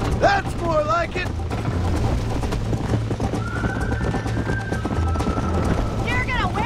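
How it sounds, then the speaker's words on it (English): A horse's hooves clip-clop at a gallop through Red Dead Redemption gameplay, steady and close, with a whinny and a voice talking over the running. "You're gonna wear that horse out!"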